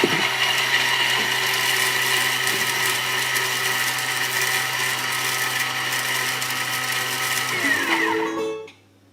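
A kitchen blender whizzes corn flour, sugar and lemon zest, a loud steady motor whir with a constant high whine that runs without a break for about eight seconds, then winds down and stops near the end.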